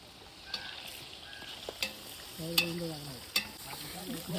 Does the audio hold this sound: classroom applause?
no